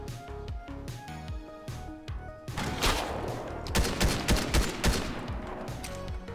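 Gunfire from another team in the video game Fortnite, volleys of sharp cracks that start sparse, then burst into dense rapid fire from about halfway on, fairly loud over game music.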